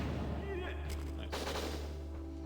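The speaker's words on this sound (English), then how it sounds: "right there, we're actually using the rocket launcher itself, not just for glitching" A rocket launcher fires in the Winback: Covert Operations video game, a loud, abrupt blast with a booming tail that rings out over steady game background noise.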